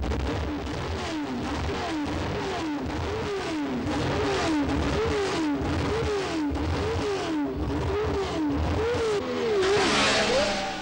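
Formula 1 race cars roar away at the start of a race, engines wailing through repeated rising and falling gear changes. The loud, continuous mechanical howl swells toward the end.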